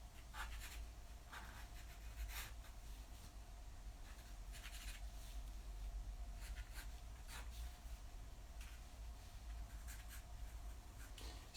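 Pencil strokes scratch across sketchbook paper while pine needles are drawn for a Christmas tree, a faint, close series of short, quick scratchy marks repeating irregularly over a quiet background hum, with no talking.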